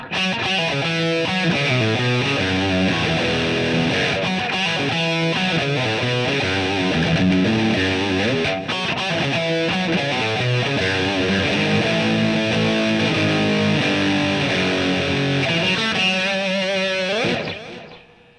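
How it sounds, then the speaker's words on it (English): A heavy, distorted electric guitar riff from a PRS Custom 24 played loud through a Marshall amp with no pedals, chugging low notes and repeated phrases, ending abruptly. "I'm playing through the Marshall amp."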